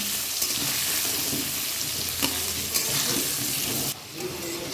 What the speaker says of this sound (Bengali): এটা ভালো করে লাল লাল করে ভেজে নেব।